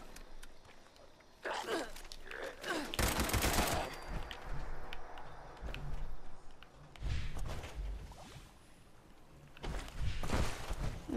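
Gunfire in the video game Fallout 76, sharp bursts of shots in several loud clusters with footsteps and movement between them, fairly close, and someone speaks briefly.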